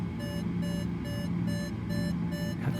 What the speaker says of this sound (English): You can hear the variometer beeping away.